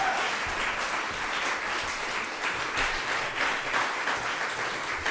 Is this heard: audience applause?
yes